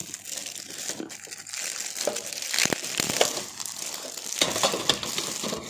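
Tape and wrapping paper crinkle and crunch as a heavily taped gift box is torn open by hand, a close, continuous crackling with sharper rips and snaps scattered throughout.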